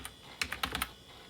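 Someone types on an iMac G3 keyboard, producing a short burst of quick, soft key clicks in a small cluster. The clicks are close but quiet, and no one talks.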